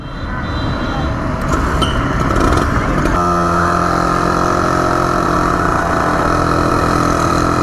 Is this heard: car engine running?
yes